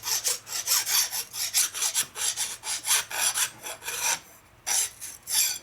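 A hand file rasps a burr on a Harley shovelhead motor case, quick rhythmic back-and-forth strokes, close and crisp, with a brief pause near the end before resuming.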